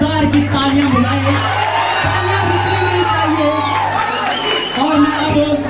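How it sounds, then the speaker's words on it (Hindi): A college fresher party crowd in Chamba whoops, shouts and cheers loudly and continuously for a student named Aadi, with a steady low hum from the hall's sound system underneath and bursts of voices throughout. "आदि के लिए प्लीज जोरदार की तालियां बुलाइए"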